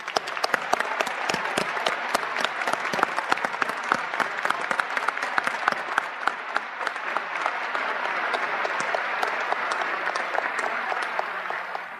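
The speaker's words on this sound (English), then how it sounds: "Let's give a round of applause to the PhD candidates." Audience applause for PhD candidates at a graduation ceremony, dense crackling claps from a large crowd sustained throughout at steady loudness.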